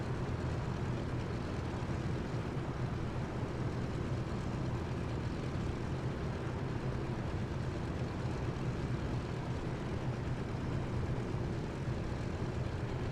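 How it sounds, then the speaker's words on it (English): Douglas DC-3 radial piston engines in a flight simulator game with the Duckworks mod, a steady loud droning hum running unbroken throughout, with no talk. "DC-3 in the sim with the Duckworks mod, which makes it a lot more flyable"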